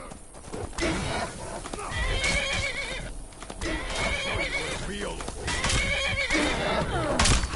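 Horse neighing and whinnying with clip-clopping hooves in the video game Skyrim, loud and continuous over busy game ambience, with a voice talking throughout.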